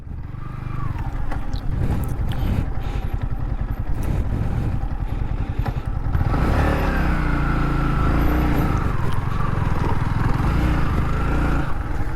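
A vehicle on a road near Valparai rumbles past close by, its engine note rising and shifting as it goes by, with no voices heard.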